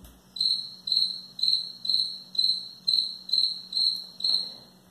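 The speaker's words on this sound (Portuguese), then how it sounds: "um som curto seria o som produzido por um grilo" A cricket chirps in a steady rhythm, about nine evenly spaced bright trills, close and clear against a quiet background.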